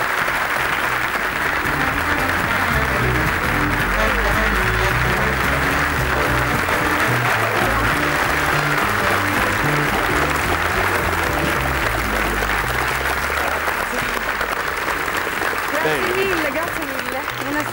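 Steady applause from a studio audience at a live Italian television variety show, sustained and dense for the whole stretch, with a presenter's voice heard over it.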